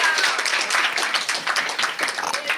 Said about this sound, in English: Big round of applause for Karabo